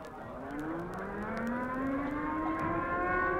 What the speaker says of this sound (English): There goes the alert siren.